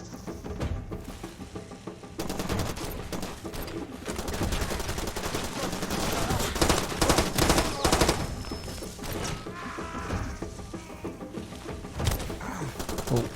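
Gunfire in the jungle shooter Far Cry 2: rapid bursts and sustained automatic fire, loud and dense, amid game ambience with bird calls and distant explosions, continuing steadily with short lulls.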